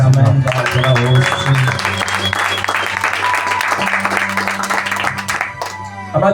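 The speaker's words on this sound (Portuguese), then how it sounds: "Aplauda o Senhor." A church congregation at an Easter Sunday service bursts into sustained loud applause, dense clapping with crowd voices and a sustained musical tone underneath, fading slightly toward the end.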